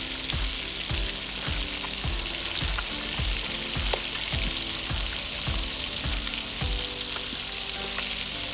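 Fish deep-fries in very hot ghee, a dense, loud continuous sizzle and bubbling running throughout, with regular low rhythmic thumps underneath and no speech.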